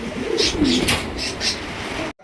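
Cinnamon cockatiels and other caged birds at a farm sale call out in a run of short, bright chirps and coos, fairly close and moderately loud against a steady room background.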